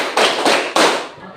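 A group claps hands together during a counting drill, three loud sharp claps spaced evenly, each slightly ragged as if the hands are not perfectly in unison, with a brief ringing decay after each.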